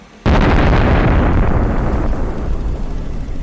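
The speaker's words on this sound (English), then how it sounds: "The explosion was so powerful that the tank's turret was thrown several meters into the air" A tank blows up from a drone strike as its ammunition detonates, a sudden loud blast that erupts at once and rolls into a long, roaring, crackling rumble slowly fading over several seconds, with no voices.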